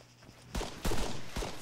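A short burst of gunfire in the video game Arma 3, with a few sharp loud reports in quick succession over a low rumble, no talk.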